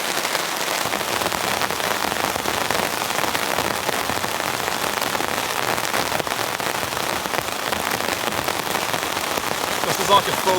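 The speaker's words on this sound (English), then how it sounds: "This is like a full-blown deluge." Heavy rain pours steadily onto a sagging nylon camping tent, a dense, continuous hiss of countless drops drumming close on the fabric for the whole stretch without a break.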